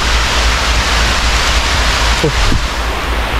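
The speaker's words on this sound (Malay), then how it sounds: "Hujan lebat geng." Heavy rain pours down steadily during a fishing trip, a dense, loud, even hiss that fills the whole moment with no break and no talking.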